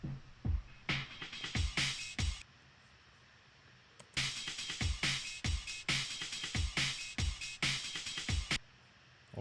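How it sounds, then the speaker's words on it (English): A breakbeat drum sample loops in sharp, punchy hits of kick, snare and bright cymbals, with a short quiet gap before the pattern restarts and drives on to the end. "this breakbeat I used on the 3rd verse and the outro"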